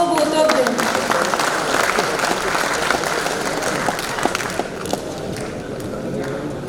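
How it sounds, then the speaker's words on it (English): Audience at a seminar on the union budget breaking into a round of applause, dense steady clapping from a hall crowd that slowly thins and fades toward the end. "A huge round of applause for both of them."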